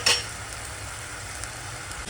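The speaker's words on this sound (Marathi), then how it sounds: "आलं लसणाची पेस्ट परतलं गेली आहे" Ginger-garlic paste sizzles steadily in a hot pan, a soft continuous fry with a brief stir or utensil touch at the start and no voices.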